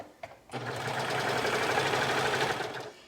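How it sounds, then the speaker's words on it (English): A sewing machine stitches the shoulder seam of a shirt, a steady close mechanical whirring with a rapid rhythm that starts after a couple of brief clicks and runs unbroken for about two and a half seconds. "I'm going to sew one of the shoulder seams"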